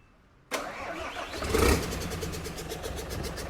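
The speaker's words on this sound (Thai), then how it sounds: "วันนี้พามาชมเครื่องยนต์6 u z 380นะครับ" A Toyota 6UZ 3.8-litre V8 engine cranks and catches after a brief silence, revs up briefly, then settles into a steady, throbbing idle close by.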